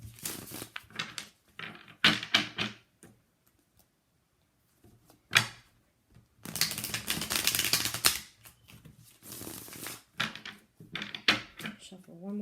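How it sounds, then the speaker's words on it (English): Tarot cards being shuffled by hand, coming in several separate bursts of riffling, flicking card noise with quiet pauses between them, close and crisp. "Let me just shuffle a couple times."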